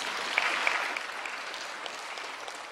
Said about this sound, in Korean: 우리 박수 한번 하십시오